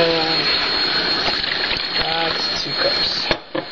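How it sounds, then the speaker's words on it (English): Water from a tap gushing steadily into a measuring cup while making a jello pie, a continuous pour with slight shifts in tone, ending with a brief clunk. "We need 2 cups of water to go in."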